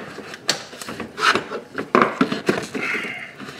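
Intake tube being pushed back onto the throttle body of a 2004-2009 Toyota Prius, a close burst of rubbing, scraping and knocking plastic and rubber sounds in irregular bumps, with no talking.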